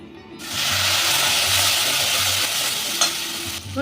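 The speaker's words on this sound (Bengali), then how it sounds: "এবার এই তেলেই দিয়ে দেব এই যে পোস্ত কাজু আদা আর কাঁচা লঙ্কা বাটাটা" Hot oil hisses and sizzles loudly and steadily as a ground paste of poppy seed, cashew, ginger and green chili is fried after potatoes, starting abruptly and continuing without pause.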